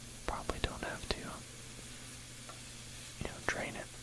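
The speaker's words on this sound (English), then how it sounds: "we just got these sizzling down for a bit" Faint sizzling of chorizo in a pan with intermittent scraping and tapping of a utensil, quiet background hum beneath.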